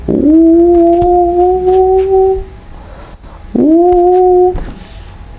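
A human voice imitates a wolf howl in two long, rising-then-steady wails, the first sustained for about two seconds, the second shorter, loud and close.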